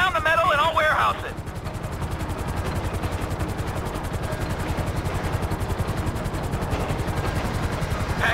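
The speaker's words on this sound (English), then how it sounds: "There's two choppers coming toward my train!" Helicopter rotors thump in a steady rapid beat, loud and close, after a brief burst of other game sounds at the start; two choppers approach a train in GTA 5.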